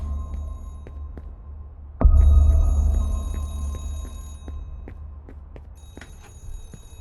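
An old telephone rings steadily behind a locked office door in the horror game Remothered: Broken Porcelain, muffled and repeating over a low throbbing ambient hum, with a loud thud near the start.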